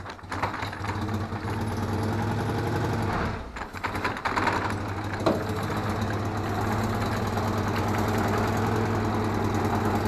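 Engine of a Citroën Acadiane van running on its first drive in three years, with an imprecise gearbox and no brakes: a steady, close mid-pitched drone with knocking vibration, dipping briefly before settling back to a constant running hum.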